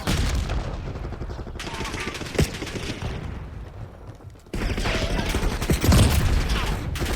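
Gunfire in a Call of Duty Black Ops 6 multiplayer match comes as dense, overlapping bursts in a steady loud battle bed, with a sharp crack near the middle. It quiets briefly, then loud firing and game sounds return for the remainder.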